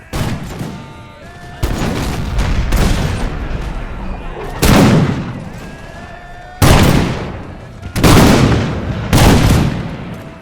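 Dense gunfire from a battle between Imperial Russian troops and a massive Arab army in a strategy war game, with repeated loud musket volleys and booming cannon blasts that crash in every few seconds over a continuous rumble.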